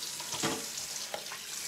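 Running water at a kitchen sink while raw shrimp are rinsed and cleaned by hand, a steady close hiss with a few soft splashes and small clicks, no voices.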